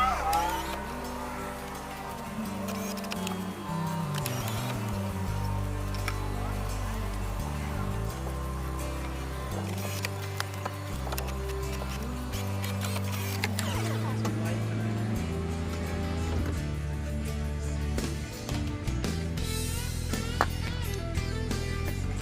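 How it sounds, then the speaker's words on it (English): An Isuzu VehiCROSS power window motor whines and hums as the glass runs up and down repeatedly after lubrication, its pitch shifting in steady, stepped cycles. "it looks like we're going up and down smoothly"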